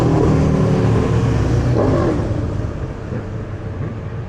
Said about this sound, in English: I think those motorbikers are playing a tune with the revving.